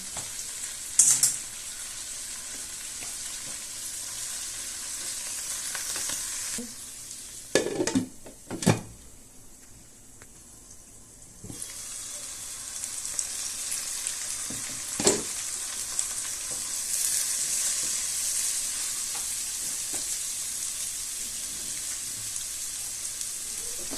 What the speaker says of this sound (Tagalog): Sud na natin po ang mga dahon ng kangkong.